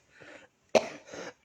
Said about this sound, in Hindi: ये तकलीफ वाली खांसी नहीं है,